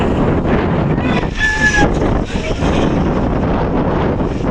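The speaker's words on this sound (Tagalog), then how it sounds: "Ang lakas ng hangin." Strong wind buffets the microphone in a steady, loud roar throughout on a mountain gravel road near Mt. Bulalo, with brief muffled voices in the middle.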